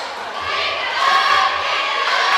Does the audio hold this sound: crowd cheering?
yes